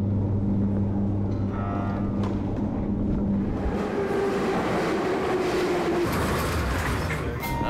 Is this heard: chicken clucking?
no